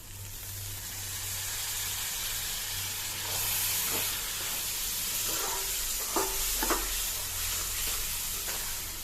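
Homemade pickle stirred in a hot pan, with a steady hiss and sizzle plus a few light spoon scrapes and taps, heard up close without talking.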